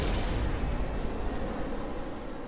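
Missile and gunfire explosions in Kerbal Space Program with BD Armory fighter combat, a dense, continuous roar of blasts and rumble at steady loudness with no distinct individual bangs.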